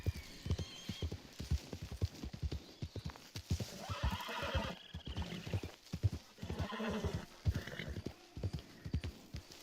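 A horse in the Red Dead Online video game clip-clops along at a steady walking rhythm, hooves close and distinct, with whinnying neighs breaking in several times.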